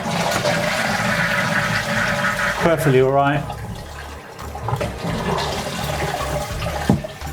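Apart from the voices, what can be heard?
toilet flushing and cistern refilling after repair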